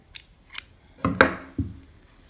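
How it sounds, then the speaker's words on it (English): Scissors cutting crochet yarn: a few soft snips and clicks close to the microphone, with several short sharp blade sounds in quick succession in an otherwise quiet room. "So what you'll do from here is chain 1 and cut the yarn."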